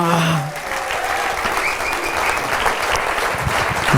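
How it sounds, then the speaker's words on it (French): Loud applause rolls through a comedy-show audience in honour of the sound technician, dense and sustained, with a brief voice at the start and a few whoops or calls mixed into the clapping. "Grosse main d'applaudissements à Bud, notre gars de son, qui fait un job d'enfer!"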